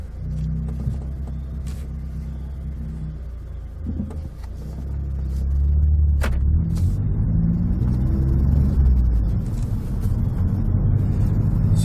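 A Ford Focus ST with its muffler cut off rumbles deep and throaty at idle, then swells louder as it pulls away and accelerates, with no voices.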